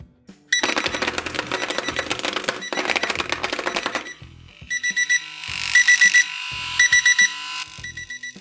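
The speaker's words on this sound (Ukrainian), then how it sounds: "І тепер подивимось, як спрацьовує будильник." A TS-8202 vibrating alarm clock for deaf and hard-of-hearing users goes off, first rattling hard against a surface as it vibrates, then chirping with loud, repeated electronic beeps in quick bursts.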